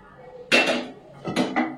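A cooking pot set down on a stove makes two close metallic clunks about three-quarters of a second apart, each with a short ringing scrape, against a quiet background.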